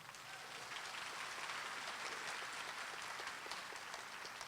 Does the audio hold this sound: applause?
yes